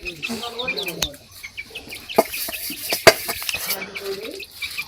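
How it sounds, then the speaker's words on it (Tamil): Native country chicken chicks clucking and cheeping, with scattered close peeps and chirps, sharp clicks and knocks, and a voice speaking briefly among them. "கோழி குஞ்சு ஒரிஜினலாக நாட்டுக்கோழி குஞ்சு விடையாட்டுக்குது"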